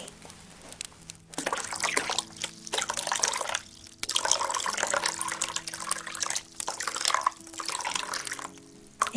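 Bath water poured in uneven splashing bursts with trickling pauses beside a hearth, close and soft, with intermittent gentle pouring and dribbling over about nine seconds, no talk.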